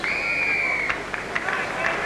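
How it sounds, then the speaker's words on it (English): Rugby league crowd at a 1980 New Zealand versus Great Britain test match, a broad distant roar of applause and cheering with scattered claps, and a steady whistle-like tone over the first second. "the crowd, even though he'd not be as strong as I thought he would have been, are applauding Alex"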